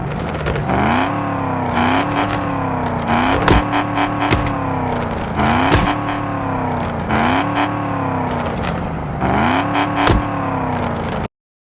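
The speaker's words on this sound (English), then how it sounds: "V8 sound." A V8-swapped Toyota Supra in Car Parking Multiplayer revs over and over in rhythmic surges, a deep, loud, close engine note with crackling pops at each peak before cutting off.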